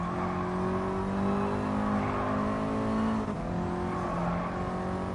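A mid-engine race car in Gran Turismo Sport lapping Brands Hatch, its engine droning and revving continuously with rising and falling pitch, close and loud with no talk over it.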